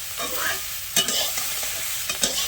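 Fish curry ingredients with turmeric frying in a pan, a loud continuous sizzle with a couple of sharp scrapes of a spatula.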